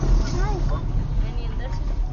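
A small tractor engine chugs in a low, steady rumble close by, with a person talking over it.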